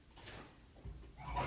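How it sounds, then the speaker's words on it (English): Desk drawer sliding open at a crafting table, a short soft scrape and rumble followed by a low bump, close by and fairly quiet. "open my drawer here."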